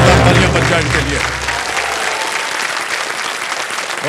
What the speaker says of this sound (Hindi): एक बार फिर से जोरदार तालियां बज जाए इनके लिए।